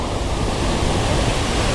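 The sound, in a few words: roar of a large waterfall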